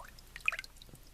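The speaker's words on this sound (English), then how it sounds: "I'm going to pick it up and just dump out whatever junk wants to come out" Water dumped out of the barrel of a rinsed Colt 1851 Navy revolver being cleaned, a faint, brief splash and dribble in the middle of a quiet moment with no talk.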